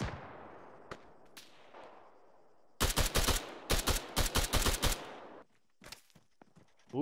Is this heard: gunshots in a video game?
yes